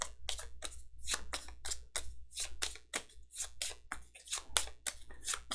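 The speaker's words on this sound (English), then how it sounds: "Okay, I'm shuffling these up," A deck of cards is shuffled by hand at a tabletop game session, giving a rapid run of crisp riffling bursts, close and fairly quiet.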